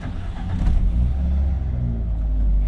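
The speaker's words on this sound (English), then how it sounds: "when I turn the car on" A Fiat 124 Spider engine rumbles to life and settles into a steady low idle, close and loud, with no voices.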